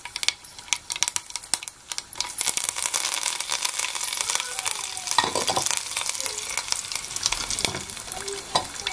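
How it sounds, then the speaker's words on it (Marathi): Curry leaves hit hot oil for a chutney tempering on a wood stove, starting with scattered pops and clinks and building into a continuous close, loud sizzle with crackles that lasts to the end. "आणि कढीपत्ता घालते."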